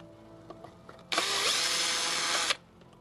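Power screwdriver backing screws out of a Logitech X530 subwoofer case, one loud whirring burst of about a second and a half close by, with faint clicks and handling noises before and after.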